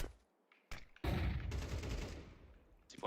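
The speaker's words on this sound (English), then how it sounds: "Deploying flashbang." A flashbang grenade in a video game goes off with a loud, sudden blast that rumbles away slowly, preceded by a sharp shot and followed by another report at the end.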